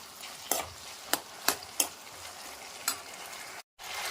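Prawns frying in a pan for pickle, stirred with a utensil: a steady low sizzle under several sharp scraping clacks spaced irregularly, close and fairly quiet, with a brief dropout near the end.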